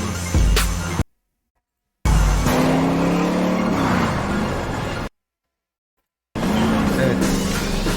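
A car drives in GTA Trilogy, with a steady engine drone, some tire noise and raised voices in game dialogue over it, cut by two stretches of complete silence.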